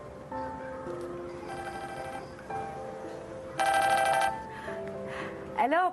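A telephone rings in repeated bursts of electronic tones, loud and close, with a brief higher warble near the end, with no talk over it.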